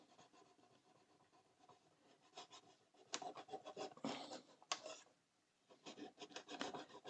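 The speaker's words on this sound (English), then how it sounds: "Now, I am using a sanding stick now, because what I want to do is I want to fade this line here." Sanding stick rubbing over a 1:16 scale Orca boat model, soft close scratchy strokes in uneven bursts with short pauses between passes, no speech.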